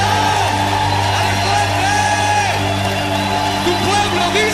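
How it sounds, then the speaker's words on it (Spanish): A church congregation cheers and shouts at a worship service, a dense, loud wash of crowd voices with whoops rising over a steady low hum, continuous throughout. "¡Oh, levanta tu aplauso, Señor!"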